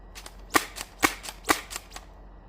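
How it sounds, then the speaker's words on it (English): A firearm slam-fired through a magazine at a range, three sharp loud shots about half a second apart among softer quick reports, ending abruptly. "Let's see if we can slam fire a whole mag through this."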